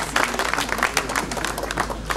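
Audience at a speech by Manuel Valls at a hospital foundation-stone ceremony in Mayotte applauding a deputy, a dense patter of clapping from a crowd, fairly close, with voices mixed in.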